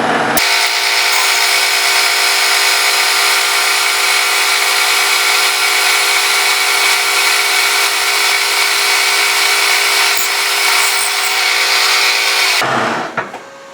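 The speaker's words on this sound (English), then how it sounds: "And we're gonna drill straight through." A drill bores straight through metal with a 1/4-20 tap drill while a gear hobber is being built, running as a loud, steady whine that lasts the whole clip and stops abruptly near the end.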